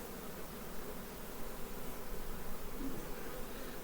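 Honey bees hum at a hive heavy with goldenrod nectar, a dense continuous drone of many wings close by, steady and low with no talk over it.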